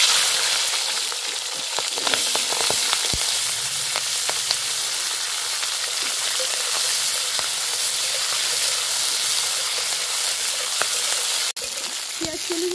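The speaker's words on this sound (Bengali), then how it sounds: "পেঁয়াজ কলিগুলো ভাজা ভাজা হয়ে গেছে" Spring onion greens fry in hot oil with nigella seeds for a Bengali fish curry, giving a steady, loud, close sizzle and hiss with occasional faint stirring clicks and no talking.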